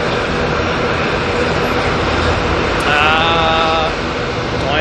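A Jetstar airliner spools up for its takeoff roll at Auckland Airport, a loud, steady engine roar with rising whine, heard from nearby without talk.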